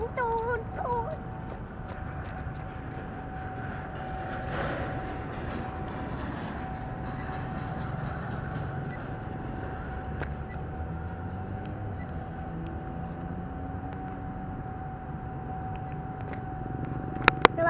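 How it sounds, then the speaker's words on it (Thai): Alstom 4130 locomotive-hauled train rolling past a level crossing at Takhli, a steady broadband rumble of wheels and engine with a sustained horn-like tone throughout, continuous and fairly near, with a couple of sharp clicks at the end. "วันนี้ผมก็จะมาถ่ายรถไฟกันนะครับ"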